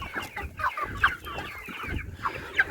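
Several chickens cluck nearby in short, irregular bursts, with soft rustling and low background noise between the calls.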